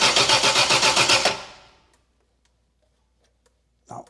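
A Triumph Spitfire six-cylinder engine cranks with a rapid, even chugging rhythm for about a second, then fades out without catching, followed by quiet clicks and a brief noise at the end.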